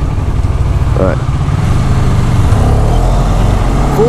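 A Honda VFR 1200F motorcycle engine roars loud and steady at full throttle, a dense continuous drone close by, with a rider's voice briefly audible over it.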